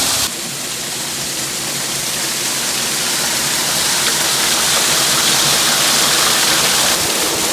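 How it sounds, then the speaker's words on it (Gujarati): Water from a borewell motor pump gushes into a tank as a loud, steady rushing roar that continues unbroken and swells slightly over time. "અહીંયા પાણીનો ધધોડો પડશે।"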